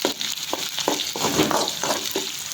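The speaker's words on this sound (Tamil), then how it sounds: "கொத்தமல்லி போட்டு ஒரு வதக்கணும்." Onions and coriander powder sauté in a pan for a vadam palam thokku, a continuous close sizzle broken by several soft scraping stirs of a spoon.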